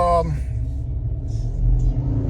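A 2024 Ford Ranger pickup driving along the road, a steady low engine and road rumble heard from inside the cab, with a brief voice at the very start.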